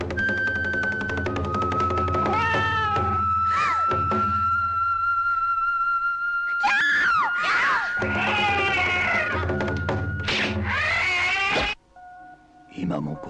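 Cursed cat in the Japanese Spider-Man tokusatsu series, giving long, wavering yowls and caterwauls that rise and bend over a held eerie tone, loud and close, with a brief thump and pause near the end.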